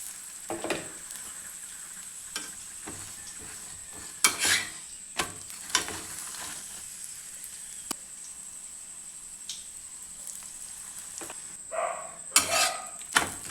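A green gram chapati frying in oil on a tawa, a faint steady sizzle broken by occasional scrapes and clinks of a spatula against the pan.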